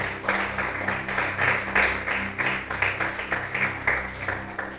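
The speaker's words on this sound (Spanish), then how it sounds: "Dale un aplauso fuerte a Cristo Jesús." A church congregation applauds in a steady, rhythmic wave of clapping, moderately loud and filling the room, with a low hum beneath.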